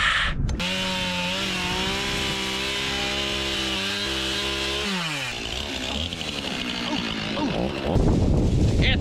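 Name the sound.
chainsaw cutting through brush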